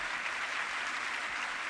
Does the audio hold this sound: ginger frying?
no